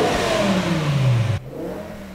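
A warmed-up BMW M6 with a V10 engine revs hard, its pitch climbing steadily into a loud, smooth wail before the throttle snaps shut and the note drops to a lower idle hum, close and alone.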